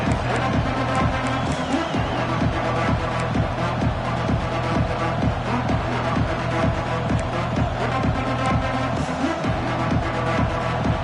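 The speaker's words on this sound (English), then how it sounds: "This crowd bringing an ear-splitting welcome to their visitors." A packed football stadium crowd roars loudly without a break as a team of visitors takes the field, and a steady rhythmic pounding of stomps or chants runs under the roar.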